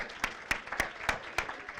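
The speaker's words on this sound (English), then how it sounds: "Give yourselves a round of applause." Rhythmic clapping at a celebration event: about six sharp, evenly spaced claps, fairly faint and without other sound.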